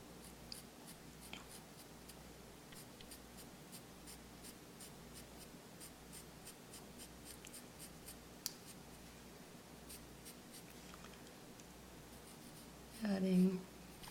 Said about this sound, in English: Now we're going to come back in for our final darks with our charcoal pencil.